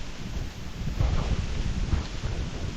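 Steady wind gusts buffet the microphone outdoors at Holy Cross Mount in Quezon, a low rumbling roar that swells and eases with no voices heard.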